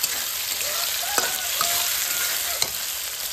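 Chopped onions frying with whole cumin in hot oil, a steady loud sizzle broken by a few sharp scrapes of a spatula stirring the pan.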